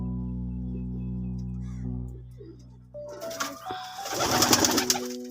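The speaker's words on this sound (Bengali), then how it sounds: "শিয়ালকুর কবুতর আছে, ডাবওয়ালা কবুতর আছে।" Pakistani pigeons coo in low, soft, repeated tones, joined toward the end by busier fluttering and scuffling nearby.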